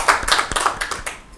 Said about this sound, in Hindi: एक और जोरदार ताली हो जाएगी